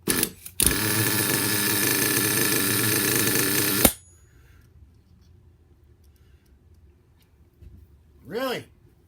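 A Redcat Volcano RC car with an HPI 3.0 nitro engine buzzes loudly and steadily up close for about three seconds, then cuts out, leaving near silence apart from a brief faint sound near the end.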